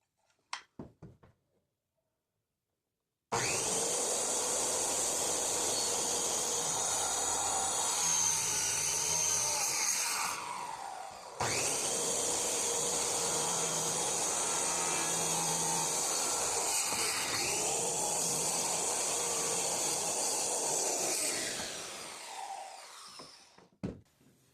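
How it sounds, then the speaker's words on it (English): Power saw making repeated plunge cuts into wood to cut grooves for a budget bed frame, a loud sustained whine starting after a short quiet lead-in, briefly dipping midway, then running down as the blade spins to a stop. "I'm going to raise the blade guard, lift the saw up, and plunge the saw down, and that's going to be our plunge cut to cut that groove."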